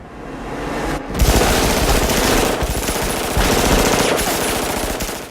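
Automatic gunfire fills a movie lobby shootout in The Matrix, dense and sustained bursts rattling continuously under a driving electronic soundtrack, loud throughout with brief dips between volleys.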